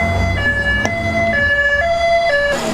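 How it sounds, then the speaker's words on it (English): An ambulance siren wails loud and close as it passes slowing traffic at a car meet on the Isle of Wight, its steady tone stepping between pitches with constant road noise beneath. "there's an ambulance coming"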